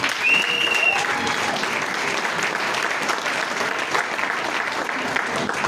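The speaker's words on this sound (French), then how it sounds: "C'est applaudi." A congress audience breaks into sustained applause, a dense, even roar of many hands clapping that holds steady throughout, with faint voices mixed underneath.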